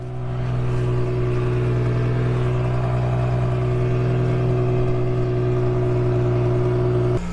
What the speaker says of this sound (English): It runs good. The exhaust sounds a little better.